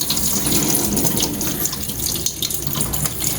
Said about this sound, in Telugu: కూల్ వాటర్ వేసుకోవాలి జస్ట్ అందులో.